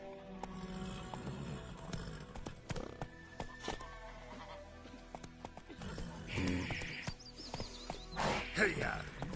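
Roach the horse moving along with rhythmic clip-clopping hooves, now and then a neigh or whinny, under a rider's spoken urging and a busy, layered background.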